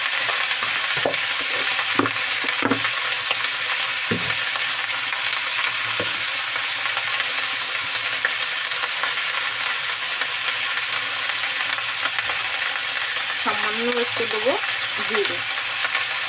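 Chopped winter vegetables frying in oil in a pan for a light rui fish curry, a steady soft sizzle broken by a few sharp spatula clanks early on and brief rattling stirs near the end.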